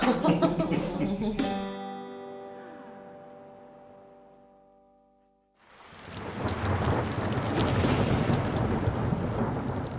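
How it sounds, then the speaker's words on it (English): Heavy rain pours down hard and steadily in a mountain setting, rising as a dense, loud hiss after a fading tonal ring and a few seconds of near silence. "it's raining so hard we can't even see the mountains"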